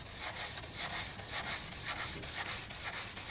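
Rhythmic back-and-forth hand sanding on wood with 240-grit abrasive and no dust extraction, a steady hissy scratch repeating in even strokes, close up with no talking.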